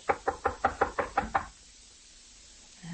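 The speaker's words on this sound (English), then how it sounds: "Here's his room. I'll knock." Eight quick, evenly spaced knocks on a hotel room door, crisp and close, followed by a quiet pause.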